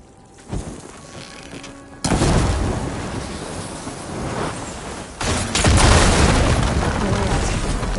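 Blaze barrels set off by fire ammo in Horizon Forbidden West burst in two heavy, booming explosions, one around two seconds in and a louder one near five seconds, each leaving a long rumbling, crackling tail.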